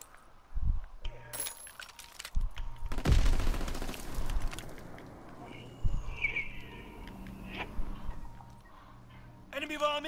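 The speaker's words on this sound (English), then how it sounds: "That was a machine gun." Machine gun fire in the World War II shooter Call of Duty: WWII, with bursts of gunfire and explosive blasts in busy battle noise; a voice talks over parts of it.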